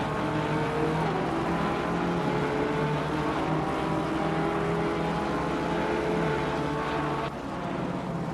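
Several GT3 race cars in Assetto Corsa Competizione drone together in a steady, continuous engine roar with layered harmonic tones, constant loudness and a slight drop near the end.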